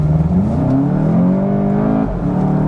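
A 2017 Volkswagen Golf GTI accelerates hard from inside the cabin, its engine note climbing steadily through the revs, dropping briefly at a gear change and rising again, loud and close.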